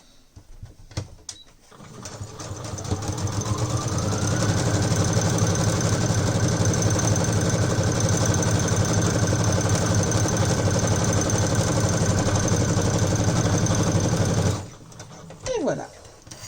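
A sewing machine stitching a tote bag runs in a steady, loud mechanical whir for about twelve seconds, starting and stopping abruptly, with brief handling clicks before and after and a faint voice at the edges.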